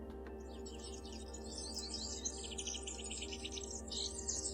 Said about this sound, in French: Là vous voyez ce son, c'est des oiseaux.